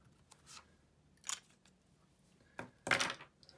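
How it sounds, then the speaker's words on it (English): Sailor 1911 Large fountain pen with a medium nib writing on paper, faint, close scratchy strokes with a pencil-like feedback, arriving in short separate bursts with quiet pauses between them. "Sailor pencilish feedback that the nib produces on the paper"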